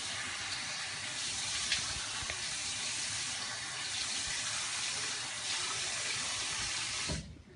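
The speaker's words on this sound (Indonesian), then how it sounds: "Pertama, cuci muka." Tap water runs in a steady, loud, close stream into a sink while a face is washed, with faint splashing over the flow, until the water cuts off abruptly near the end.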